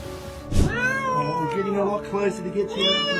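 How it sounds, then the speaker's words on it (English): A cat stuck in a narrow crack between two walls meows repeatedly and pleadingly, long wavering cries that rise and fall, close and fairly loud with some background noise. "A cat got stuck in a small crack between two walls and was begging for help"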